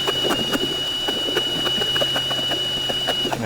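A power ice auger runs in reverse while ice fishing for bass, with a steady close motor drone and a rapid rhythmic ticking before it winds down near the end.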